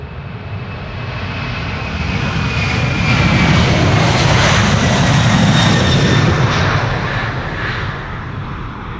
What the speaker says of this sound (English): United flight 947 to Washington. 767-300.